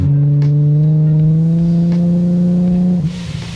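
The supercharged 560 hp Infiniti G37 engine, with a Vortech-type supercharger, holds a loud, steady, close-up rev for about three seconds and then drops off sharply.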